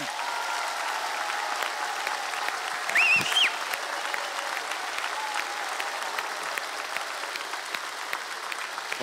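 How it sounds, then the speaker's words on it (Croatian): Steady applause from a television studio audience greeting singer Haris Džinović, an even, moderately loud patter of many hands lasting throughout, with a brief whistle or cheer partway through. "molim vas jedan veliki aplauz za gospodina Harisa Džinovića"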